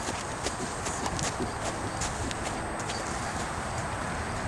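A rescued bucking-stock horse walks on the ground of a round pen, its hooves clip-clopping in a steady rhythm against a constant background hiss.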